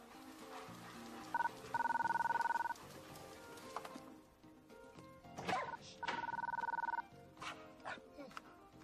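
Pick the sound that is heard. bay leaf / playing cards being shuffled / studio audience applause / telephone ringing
telephone ringing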